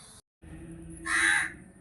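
A single crow gives a loud, close caw after a brief moment of silence, with no other sounds around it.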